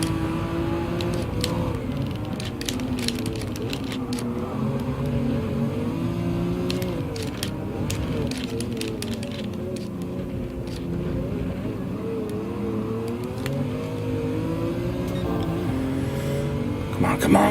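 Ferrari Testarossa engine in Gran Turismo 7, a steady loud drone with shifting revs running the whole time, with talk over it.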